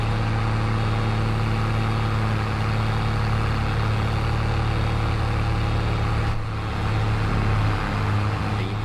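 Loud tractor engine pulling a trailer loaded with bales, a heavy, steady low drone that stays close and constant throughout with a slight dip near the end.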